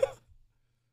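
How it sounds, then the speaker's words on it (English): A single short burp erupts loud and close at the very start, with a faint low rumble trailing off, then silence. "I burped."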